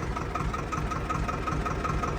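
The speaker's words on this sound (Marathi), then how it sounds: "बंद करा ट्रॅक्टर एक मिनटं" A Swraj tractor engine idles steadily close by on a farm where a groundnut sowing machine is being shown, giving a continuous low rumble with no voices.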